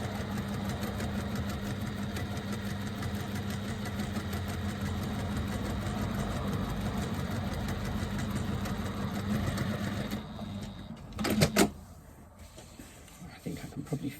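Sewing machine stitching lines on a press bag, a steady fast mechanical whir with rapid rhythmic ticking that runs continuously, then stops near the end followed by a few brief clunks.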